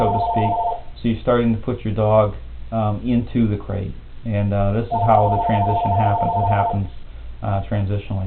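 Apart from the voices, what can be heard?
telephone ringing in the background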